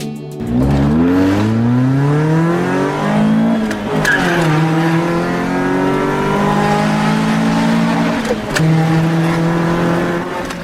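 Several street racing cars, fueled with 94 octane gas, accelerate hard at night in Toronto, their engines climbing through gears and revving loud and close, with tire squeal and continuous roaring passes across the whole stretch.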